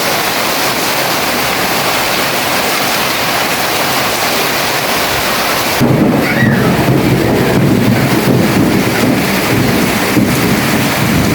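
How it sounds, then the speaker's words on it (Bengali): Heavy rain pours steadily over Mirpur 1, Dhaka, in a dense continuous roar, and about halfway through a deep, low rumble of thunder swells up beneath it and carries on to the end; no one speaks. "ওয়েদারটা ডাকতেছে, দেখছেন"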